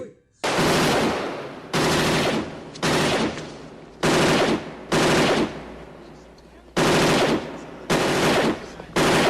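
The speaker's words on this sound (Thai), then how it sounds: "เสียงปืนสงครามของฝ่ายเจ้าบ้าน ดังหนักหน่วงหนาแน่นยิ่งกว่าครั้งแรก" War guns firing in an audio drama, loud close bursts of rapid automatic fire that come in about seven separate volleys with short gaps, each burst heavy and dense.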